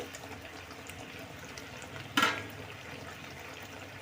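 Chili goes into a pan of apple pickle cooking with sugar, bringing one sudden sizzling splash midway that quickly fades back to a low, steady simmer.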